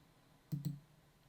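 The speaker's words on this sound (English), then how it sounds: "So let's click Start." Two quick close clicks of a computer mouse pressing a Start button in a browser, in a quiet room.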